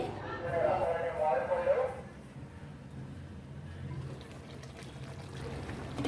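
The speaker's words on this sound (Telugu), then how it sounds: "ఇలా మగ్గిన తర్వాత ఇందులోకి కొద్దిగా వాటర్ పోసుకోవాలి" Water pours into a pot of sandva fish curry in a steady splashing stream for about two seconds, then stops, leaving a quiet background with speech.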